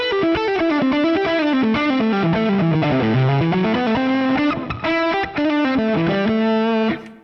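Electric guitar played through a Fractal amp modeler on a Dumble-style Fox tone, a loud distorted melodic line with sustained notes and chorus-like shimmer, played alone.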